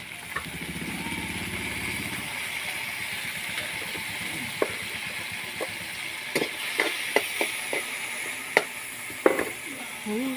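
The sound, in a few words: sautéing palukan in a pan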